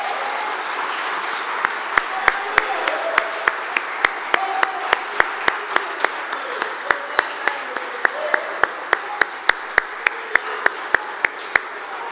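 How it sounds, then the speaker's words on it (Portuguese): A church congregation at a Sunday school service claps together in sustained applause, a dense crackle of many hands with a few sharp, loud claps standing out in a steady rhythm near the front; a voice murmurs faintly underneath. "Vamos dar uma salva de palmas ao Senhor Jesus Cristo"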